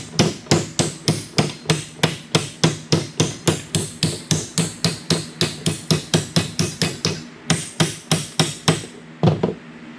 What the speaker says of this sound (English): So you can take and put it over the top of it, and then use your body hammers to